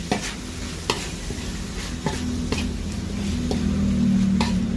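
Spicy field rat and eggplant are stir-fried in a pan, with a steady close sizzle and occasional sharp scrapes and taps of the spatula and no voices.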